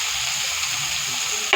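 Onion and tomato for a fish curry sizzle and fry steadily in a pan, a continuous close hiss with no break.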